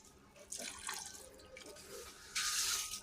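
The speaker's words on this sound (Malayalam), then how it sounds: "ഇനി നമുക്ക് കുറച്ച് ചൂടുവെള്ളം ഒഴിച്ചിട്ട് തീ ഒന്ന് മീഡിയത്തിൽ വെച്ചിട്ട് നമുക്കൊന്ന് വേവിക്കാം" Hot water is poured into a pot of chicken biryani cooking over medium heat, giving short splashing bursts close by, with the loudest and steadiest stream at the end.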